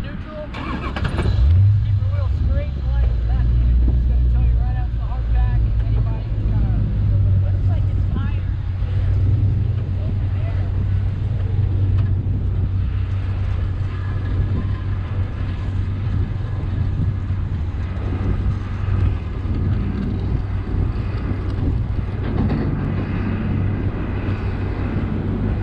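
A vehicle engine cranks and catches within the first seconds, then keeps running at a steady low rumble for the rest of the stretch as people talk nearby.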